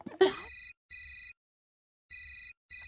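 A telephone rings indoors in a Hindi TV serial scene, two-tone electronic trills repeating in three clear bursts separated by silences, after a brief burst of voices at the start.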